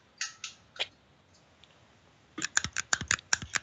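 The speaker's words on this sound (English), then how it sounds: "The clicking sound of the stapler." A purple stapler clicks in a quick run of sharp, close snaps, about eight or nine in a row after a few softer clicks and a pause.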